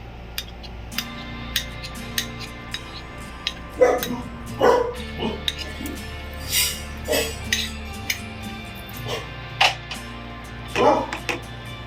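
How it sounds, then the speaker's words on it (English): Pet dogs bark repeatedly in short bursts at a passing vehicle, some barks loud and near, others fainter, with occasional clinks of dishes and a steady background hum. "We have pets, so whenever any vehicle comes, they start, barking."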